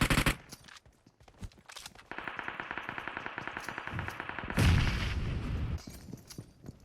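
Grenade going off during a PUBG Mobile match beside a red house, with a sharp blast followed by rapid gunfire bursts and a heavier rumbling boom near the end.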